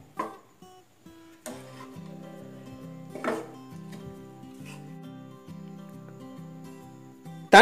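A spoon stirs wheat rava upma in a pan as chopped coriander and curry leaves are mixed in. A few distinct scraping strokes stand out from quieter intermittent rubbing over a steady low hum, ending in a louder clatter.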